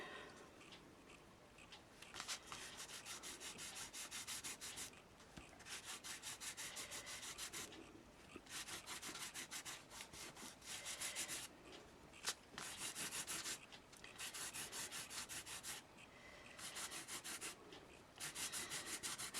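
Wax rubbed onto a piece of card in repeated bursts of dry scraping friction, each lasting a couple of seconds with short pauses between, steady and close.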